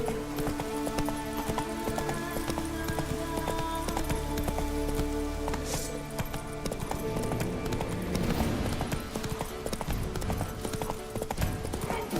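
Hooves of a game horse from The Witcher clip-clop in a steady galloping rhythm, close and continuous, over a background of layered music and ambient game sound.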